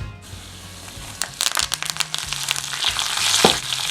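Dried red chilies and curry leaves hit hot oil with a sudden crackling sizzle that spits and pops unevenly for a few seconds, close and fairly loud, with no one talking.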